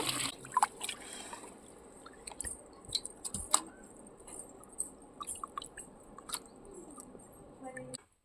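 Raw chicken pieces are washed by hand in water, giving close wet squishing and splashing with small drips in an irregular rhythm for about eight seconds.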